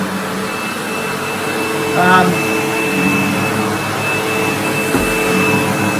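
A Sebo upright vacuum cleaner runs on carpet in a home, giving a loud, steady motor whine and airflow roar throughout, with a brief rise in pitch as it is pushed along and a soft thud near the end.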